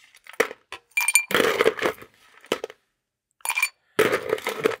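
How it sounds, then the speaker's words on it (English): Ice cubes tumble into a glass for a stirred non-alcoholic drink, in several separate bursts of close, bright clinks and rattles, with short silent gaps between them. "And let's throw some ice into here."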